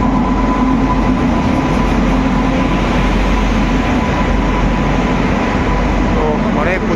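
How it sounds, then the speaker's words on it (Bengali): A train pulls into Prayagraj Junction after a long delay, its steady loud rumble filling the whole stretch with a constant low roar and faint tonal hum and squeal, near and continuous. "তো অনেক প্রতীক্ষার অবসান ঘটিয়ে আমাদের এই ট্রেন চলে এলো।"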